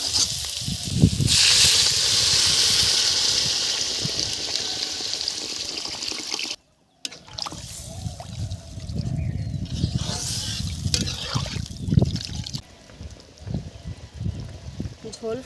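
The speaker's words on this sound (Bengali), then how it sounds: "এখন আমি জল ঢেলে দেব।" Water pours into a hot pan of dry-fried shrimp for a village-style curry, a running splash and hiss that settles into bubbling, with a person talking over it throughout.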